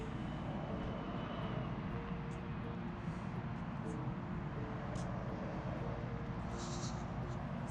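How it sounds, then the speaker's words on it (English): A Southwest Boeing 737 MAX 8 taxis onto the runway for takeoff at Harry Reid International Airport, its engines giving a steady, continuous broadband roar at moderate distance throughout, with no talk over it. "Over there is a Southwest Boeing 737 MAX 8 taxiing onto the runway for takeoff at Reid International Airport."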